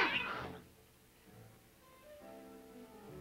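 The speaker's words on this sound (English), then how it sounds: "Oh, those cats." Cats meowing, a loud yowl at the start followed by fainter, drawn-out mews fading in and out over a few seconds, with no talking.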